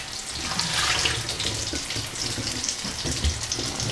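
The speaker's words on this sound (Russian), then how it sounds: "Ты много воды налил." Tap water pours steadily into a cooking pot in a home kitchen, a continuous broadband rushing splash heard close and alone, without speech.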